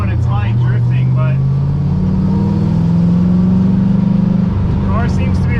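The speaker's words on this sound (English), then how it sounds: "the car seems to be running pretty good other than the high idle." A Mazda FC RX7 rotary engine runs steadily at a high idle, a loud continuous drone that rises slightly in pitch midway, with brief voices in the background near the start and end.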